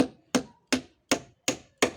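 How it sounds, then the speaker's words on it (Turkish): A hand saw cuts wooden boards for a chicken coop in six evenly spaced, sharp strokes about a third of a second apart, close and distinct against silence. "O yüzden elimdeki testereyle kesiyorum."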